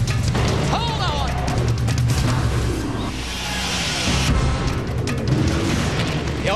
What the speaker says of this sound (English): Oh, Palmer explodes the motor and it cuts the tire